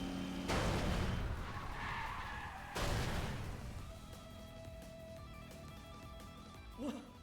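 Race cars skid off the track during a Grand Circuit race in Trails Through Daybreak 2: two loud, rough tire-skid bursts, the second cutting in right after the first, then fading into quieter engine and crash noise.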